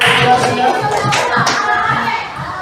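An audience, likely children, claps for a group in a classroom, a loud burst of mixed clapping with voices chattering over it that tapers off toward the end.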